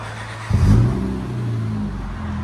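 A Honda Accord V6 blips its throttle through its exhaust, a short sharp rev that swells to a throaty roar and settles into a steady, loud mid-pitched hum, close by.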